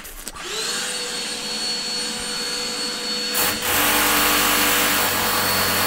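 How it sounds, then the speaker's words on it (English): A steady mechanical drilling whir from the MineColonies Minecraft mod holds for several seconds, then shifts to a louder, broader rushing drone partway through, with no voices. "And there goes the drilling."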